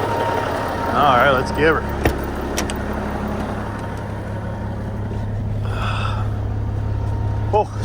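A Peterbilt 359 truck with a C-block engine idles in a low, steady rumble, with someone talking briefly over it.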